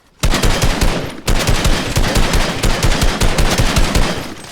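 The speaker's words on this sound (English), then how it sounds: "let me take a couple of shots so you guys can see the difference" Rapid, loud gunfire from a Fortnite weapon, rendered as dense repeated shots in a near-continuous burst with one short break early on, no talking over it.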